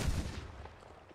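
A single gunshot in the video game GTA V lands as a heavy boom with a decaying rumble and tail, fairly loud and alone without voices.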